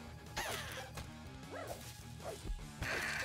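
A dog enemy barks amid game music and impact effects in an axolotl roguelike video game, with several short sharp barks spread over a few seconds against a busy, loud backdrop.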